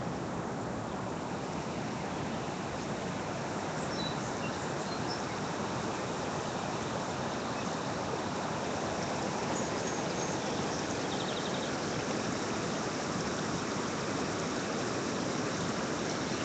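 Floodwater in a river north of Edina rushes toward a bridge, making a steady, loud broadband roar that runs on without a break. No one talks over it.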